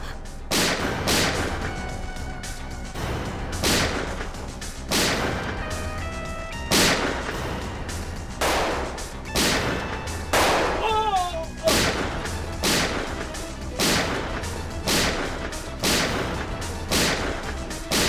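A gun fires repeatedly until it runs out of bullets, loud, sharp reports at a regular pace over a music-laden scene, with a brief whistling sweep in the middle.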